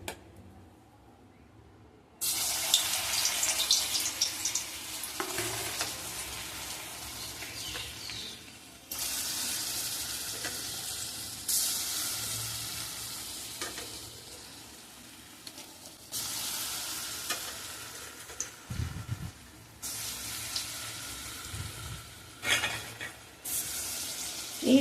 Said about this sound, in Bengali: এবার একে একে এগুলো আমি কড়াইয়ে ছেড়ে দেবো।